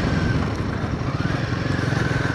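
Royal Enfield Himalayan 450 motorcycle ridden over a rough track, a loud, close engine drone with a steady throbbing pulse and heavy wind rumble, no talking heard.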